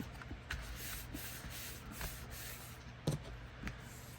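Rubbing burnish strokes press a folded pop-up gift card holder closed along its score line, quiet soft friction swishes repeating steadily with a couple of slightly sharper taps near the end.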